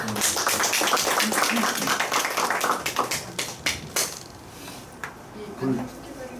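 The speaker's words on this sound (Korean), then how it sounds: "큰 박수로." A room of people at a business meeting claps in dense, steady applause that gradually thins into scattered claps, with a few voices murmuring near the end.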